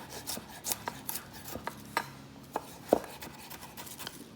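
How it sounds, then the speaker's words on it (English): A knife minces fresh ginger on a cutting board with irregular, sharp taps and a few louder knocks. The sound is close and moderately quiet, with no talking. "And then we're going to go back through and mince our ginger."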